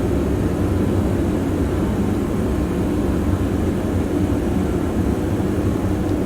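Inside the cockpit of a Diamond DA42 twin-engine aircraft on approach with flaps fully extended, a loud, constant engine and propeller drone fills the cabin with a dense, steady roar.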